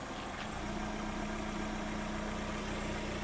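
The gearbox of a new Lada Vesta SW Cross runs with the clutch pressed down, a steady low mechanical hum and drone with faint vibration, heard close and without voices.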